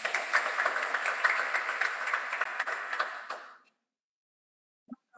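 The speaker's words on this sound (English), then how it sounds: "Let's all give them a warm round of applause" Modest crowd at a donation turnover ceremony clapping for a few seconds with distinct individual claps, then stopping abruptly, followed by silence and a couple of faint knocks.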